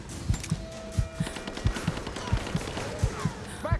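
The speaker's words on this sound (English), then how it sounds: "I'm under fire." Rhythmic gunfire in Rise of the Tomb Raider, a steady run of sharp, evenly spaced shots roughly every quarter second, fairly close and loud, with faint game ambience under it.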